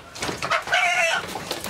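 Hens and a rooster in a backyard coop give a short burst of clucking, close and fairly loud, with no one talking.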